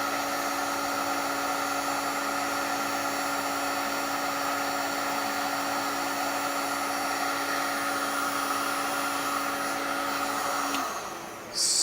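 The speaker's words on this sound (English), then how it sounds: "So my heat shrink gun, this Black & Decker" A Black & Decker heat shrink gun blows steadily at close range, a constant whirring hum with a high whine that holds for about eleven seconds before it cuts off near the end.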